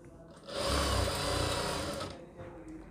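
A sewing machine stitches a seam on a designer long kurti, a loud, close, continuous motor whir for about a second and a half before it winds down into quiet.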